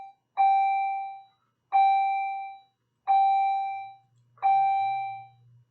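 A bell rings four times at an even pace, each a clear, fairly loud ding with bright overtones that decays over about a second before the next strike.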